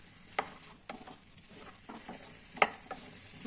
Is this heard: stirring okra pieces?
yes